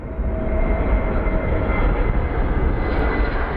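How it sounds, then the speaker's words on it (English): An airplane takes off at Phoenix Sky Harbor airport, a loud, continuous, rumbling roar with no talk over it. "Sorry, I hear a plane, I have to look up."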